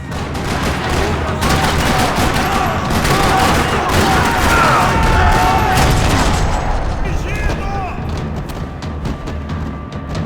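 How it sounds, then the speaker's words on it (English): Loud, sustained rattling gunfire in a parking lot in the game Max Payne 3, with rapid overlapping bursts and voices speaking over the din throughout. "Another parking lot rattling with gunfire."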